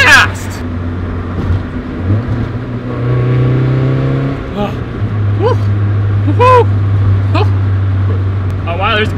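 A Mazda Miata drives along with a steady low engine drone and a brief rising rev midway, while people in the car talk and exclaim over it.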